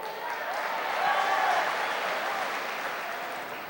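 Clapping from attendees at a special town meeting, a sustained, even roar of many hands that swells slightly in the middle, with faint murmuring voices mixed in.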